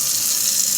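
Water runs steadily from a newly connected kitchen faucet during a sink and dishwasher plumbing install, a brief, even hiss with no talking.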